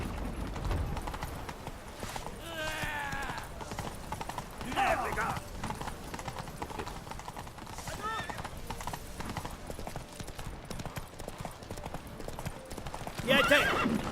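Horse hooves clip-clop steadily through a Witcher 3 game scene, with a few whinnies rising over the galloping and game voices talking throughout.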